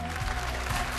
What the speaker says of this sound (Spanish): el aplauso, por supuesto, para Rodrigo y Nicole.